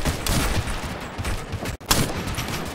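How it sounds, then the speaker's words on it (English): Gunfire in the military shooter Operation Flashpoint: Red River, with a rapid, continuous crackle of rifle and machine-gun shots at close range, loud and dense, broken by one brief gap. "They're laying down some serious lead."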